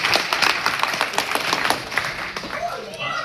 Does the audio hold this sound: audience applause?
yes